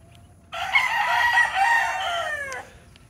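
A gamefowl rooster crows once, loud and close, in a single sustained cock-a-doodle-doo lasting about two seconds, with quiet surroundings before and after and no talking.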